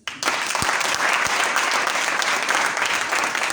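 A church congregation applauding an author of new books during a Sunday service, a sustained dense clapping that starts abruptly and continues evenly for several seconds, with a couple of low thumps near the start.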